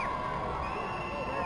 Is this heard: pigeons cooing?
no